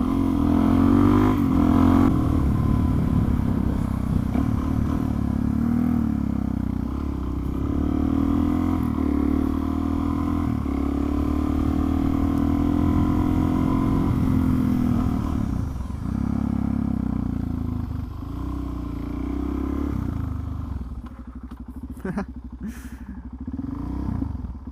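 A Suzuki DRZ400SM supermoto motorcycle being ridden, its single-cylinder engine droning loud and steady with rising and falling revs throughout, easing off toward the end.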